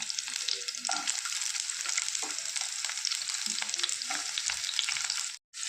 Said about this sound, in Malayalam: സവോളയും പച്ചമുളകും വെളുത്തുള്ളിയൊക്കെ ചേർത്ത് നന്നായിട്ടൊന്ന് ഇളക്കി യോജിപ്പിക്കുക.